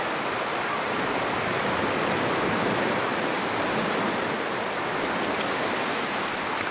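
Surf breaking on a rocky shore where penguins come ashore at Pan de Azúcar, Chañaral, a loud, continuous broadband roar of churning water with no distinct individual wave hits.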